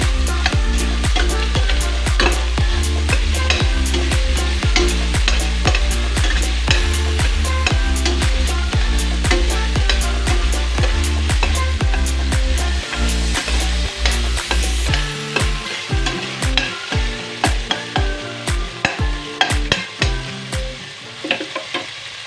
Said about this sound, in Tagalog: inulog ko na lahat. Yung bawang, sibuyas, at luya